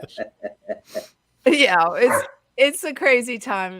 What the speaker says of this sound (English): I'm sorry about my dog. She's just not behaving.